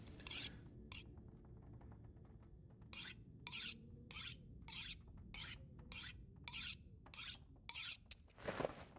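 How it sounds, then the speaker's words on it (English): A hacksaw in the video game The Long Dark is repaired with a series of rhythmic, raspy filing strokes, about a dozen evenly spaced rubs against a quiet background. "I'll try to repair the hacksaw if it needs it."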